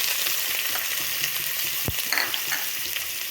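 Onion, cumin and ajwain frying in hot oil for a Punjabi tadka, a steady close crackling sizzle with a brief clink of a utensil stirring the pan partway through.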